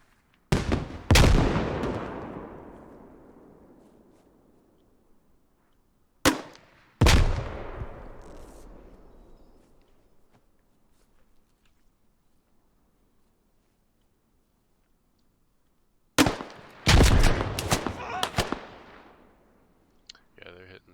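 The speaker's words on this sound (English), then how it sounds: "Grenade, grenade, grenade." Grenade explosions and gunfire in a military simulation game, loud close blasts with long decaying tails, three main clusters separated by quiet gaps, the last a rapid volley of shots, with voices talking.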